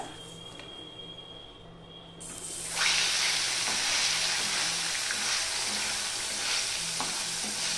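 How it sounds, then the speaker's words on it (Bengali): Marinated koi fish (climbing perch) hit hot oil in a pan, bursting into a loud, continuous sizzle after a quiet start. "এবারে যে কই মাছগুলো আমি ম্যারিনেট করে রেখেছিলাম সেগুলো আমি ভেজে নেব।"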